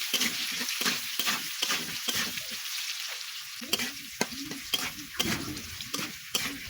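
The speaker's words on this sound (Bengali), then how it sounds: "লবণ আর হলুদ দিয়ে এখন ভালো করে ভেজে নিব আলুগুলো" Potatoes frying in oil with turmeric and salt sizzle close by, broken by a series of sharp scraping stirs of the spoon against the pan at an irregular rhythm.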